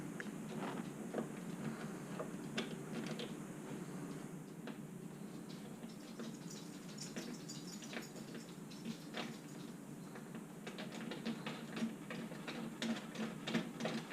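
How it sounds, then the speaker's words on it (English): A spreader being screwed down onto a brass support on a Heritage 12m mast, a run of faint irregular small clicks and ticks over steady background hiss, quiet and close, with no talk. "And screw that down."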